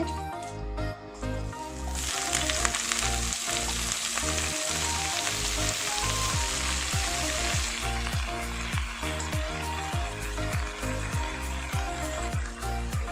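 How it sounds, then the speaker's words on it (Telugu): Fresh washed spinach (palak) tossed into hot oil for a dhaba-style palak paneer curry, giving a loud, steady sizzle and crackle that runs throughout, with soft stirring and scraping sounds and no talking. "ఆయిల్ కొంచెం వేడెక్కాక ముందుగా ముందుగా శుభ్రం చేసుకున్న ఈ పాలకూరను కూడా అందులో వేసుకోవాలి"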